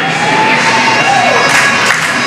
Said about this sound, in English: Everybody got happy. The clapping has started.